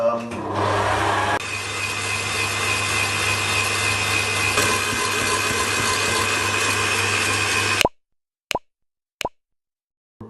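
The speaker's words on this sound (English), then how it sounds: "And that goes into a mixer. And you've got to start mixing. It's going to make some noise" An electric mixer whips chickpea juice in a steady, loud whirring drone for about eight seconds, then stops, leaving a few short clicks and knocks in near silence.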